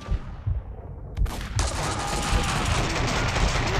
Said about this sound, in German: Hört auf Mona zu schießen.